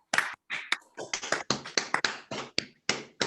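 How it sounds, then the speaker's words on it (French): Scattered, distinct hand claps after a talk on intellectual property, about a dozen sharp close hits in an irregular rhythm, as if only a few people are clapping, with silent gaps between them. "je vous demande un bel applaudissement pour cette présentation"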